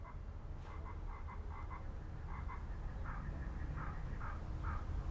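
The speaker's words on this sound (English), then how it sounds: "is that a frog?" A frog croaks repeatedly in short, evenly spaced calls over a low steady background hum, moderately faint and with no voices.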